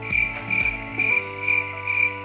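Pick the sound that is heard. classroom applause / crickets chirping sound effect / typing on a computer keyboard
crickets chirping sound effect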